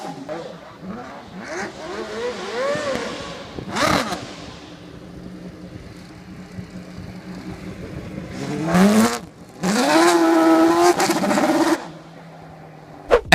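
A Formula 1 style race car playing in the dirt, heard as intermittent engine revs and loud rising accelerating bursts with quieter gaps between them, plus faint background voices.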